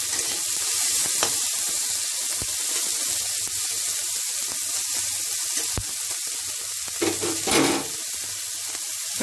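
Green peas sizzle in a pan while vermicelli upma is being made. A continuous close hiss runs throughout, with a few sharp clicks and a brief splashy burst near the end. No voices.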